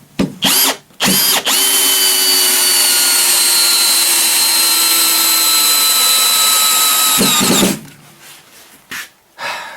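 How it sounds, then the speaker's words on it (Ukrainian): A Bosch GSR 18V-50 cordless drill driver set to full torque and first speed drives a screw. A few short bursts come first, then one long, loud, steady whine that stops abruptly, followed by close handling noises. "Ось традиційний GCR 18V50. Крутний момент на повністю, перша швидкість."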